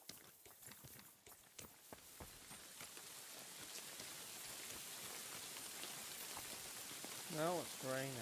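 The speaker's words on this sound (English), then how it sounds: "Now it's raining." Steady rain pattering on surfaces in the medieval role-playing game Kingdom Come Deliverance 2, a constant soft hiss with scattered drops and a few hoof-like clops early on, plus a brief warbling tone near the end.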